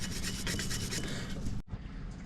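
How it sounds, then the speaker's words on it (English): Wire brush scrubbing hard on a corroded distributor from a 1992 Chevy C1500 small-block, rapid rasping strokes up close with a brief break near the end. "So just getting a wire brush and going to town on it."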